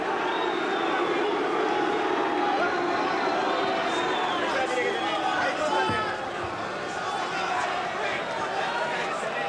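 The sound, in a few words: boxing crowd booing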